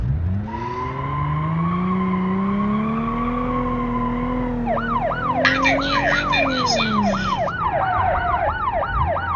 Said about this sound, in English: Yeah, it's a boo-boo ass siren.